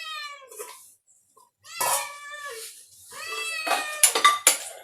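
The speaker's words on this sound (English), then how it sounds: "I have my kitty who is very eagerly waiting for the dinner" A pet cat waiting eagerly for dinner gives several close, drawn-out meows with short pauses between them, followed by sharper clinks of dishes and cutlery.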